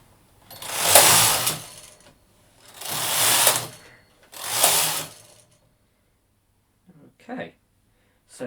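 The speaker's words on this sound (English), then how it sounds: "it will knit to the right on the main bed but not on the ribber bed, then knit to the left on the ribber bed but not on the main bed" A knitting machine carriage working a circular cast-on, passing across the main bed and ribber bed in three long swishing, rattling sweeps of about a second each, then quieter clicks near the end.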